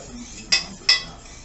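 A utensil knocks twice against a pot while onions and garlic are stirred for a gluten-free pizza sauce, giving two sharp, close metallic clinks over a quiet background with no talking.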